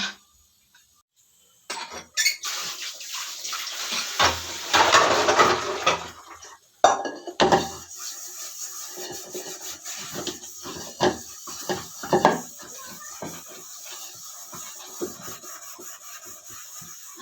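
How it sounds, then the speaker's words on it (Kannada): Dishes and pots being washed by hand at home, with brisk scrubbing and rubbing, clinks of metal utensils and bursts of handling noise, close and continuous after a brief quiet start. "ಈಗ ಒಂದಿಷ್ಟು ಪಾತ್ರೆ ಇದೆ ಇದನ್ನೆಲ್ಲ ತೊಳೆದಿಟ್ಬಿಟ್ರೆ ದೊಡ್ಡ ತಲೆನೋವು ತಪ್ಪುತ್ತೆ"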